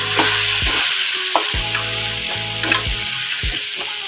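Spices for Tamil-style egg gravy sauté in a pan with a loud, constant sizzle and regular scraping stir strokes roughly every half second.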